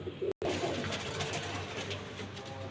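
Female pigeons coo continuously and softly, low and close by, with a brief dropout near the start.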